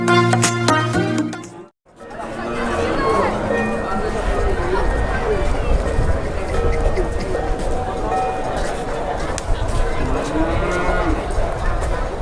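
Large Boyolali riding cow at a cattle market, led by a child, with a deep moo rising out of a busy, noisy crowd; after a short gap, steady market hubbub and people talking continue.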